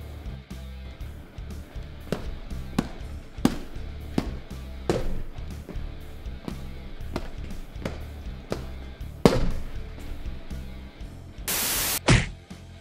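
Punches land on a BoxMaster boxing trainer in a steady run of sharp, dull thuds and slaps, close and loud, with a harsh burst of noise near the end.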